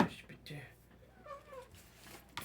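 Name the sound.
cat meowing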